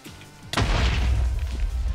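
Fireball explosion in Minecraft Bedwars, a single loud close boom after a brief quiet start, trailing into a sustained low rumble.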